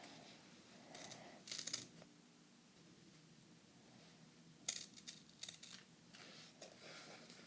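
Scissors make very faint, close snips while cutting during Jack Skellington Halloween cake pop decorating, with the crisp cuts coming in two short bursts separated by near silence in a quiet binaural setting.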